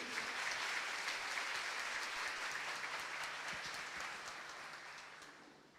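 Applause from a church congregation during Mass, a faint, even wash of many hands clapping that slowly thins out toward the end.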